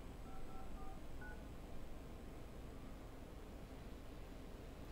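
Telephone keypad DTMF tones dialed over steady background hiss, a few short beeps at the start fading into a low noisy hum.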